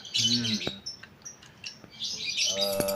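A female lovebird chirps in short bright bursts, with a few separate tweets between the louder calls. A faint low voice sounds in the background.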